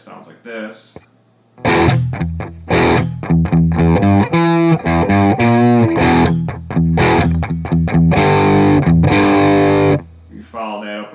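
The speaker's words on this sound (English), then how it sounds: "So altogether that sounds like this." A heavily distorted electric guitar chugs through a riff in choppy, rhythmic bursts of palm-muted notes and chords, loud and up front, with brief pauses at the start and end.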